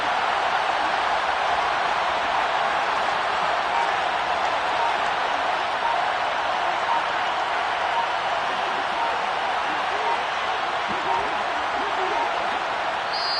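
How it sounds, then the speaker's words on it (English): Steady stadium crowd applause and cheering from a Madden NFL video game, a broad continuous roar late in a Chiefs game that holds level throughout with no clear speech over it. "It's worthy of some applause."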